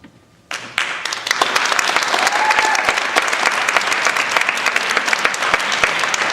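Audience applause at a Maine gubernatorial forum on economic security for women and families, bursting in after a brief quiet moment and holding as dense, steady clapping from a sizable crowd.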